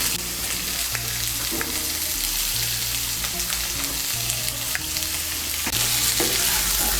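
Papaya and drumstick vegetables frying in a pan, a loud continuous sizzle with scattered scraping stirs throughout and a low background hum, no talking.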